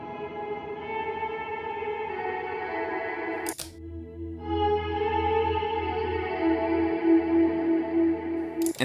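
Electric guitar played through the Dynamic Hall reverb on a Line 6 HX Stomp, sustained chords ringing into a wide wash, cut off abruptly, then a new chord with a bright repeating note blooming under heavy, lingering reverb.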